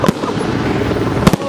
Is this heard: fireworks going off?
yes